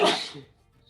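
A single sharp, close sneeze bursts out at the start, then fades into near silence with only a faint low hum.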